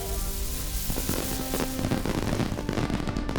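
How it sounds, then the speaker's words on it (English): White Tree fireworks going off in the online game The Lord of the Rings Online: a dense burst of crackling, popping explosions that fills the whole few seconds at a steady, fairly loud level. "White tree fireworks."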